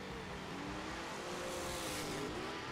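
A drag racing car launches hard off the line at a New Year Nationals bracket event, a loud, steady engine roar with rising pitch sweeps filling the whole stretch, heard alone without talk.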